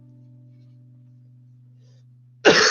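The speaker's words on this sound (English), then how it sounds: "Gosh, that's not cool to cough." One short, loud cough from a person bursts out abruptly after a quiet stretch filled only with a low steady hum.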